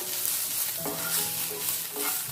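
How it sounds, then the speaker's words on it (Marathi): Coriander leaves being sautéed in a new pan for a mutton gravy, with a steady soft sizzle and rhythmic scraping stirs roughly every half second, close and alone. "कोथिंबीर काही आपल्याला फार भाजायची नाहीये. 2 ते 3 मिनिटं परतून आपण हे काढून घेऊया."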